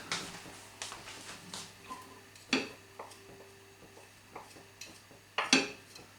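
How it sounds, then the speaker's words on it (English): Vegetables chopped by hand with a knife for a plate meat pie: sparse, irregular knocks against a board, quiet and close, with a faint steady hum underneath. "I'll have to chop all these up by hand."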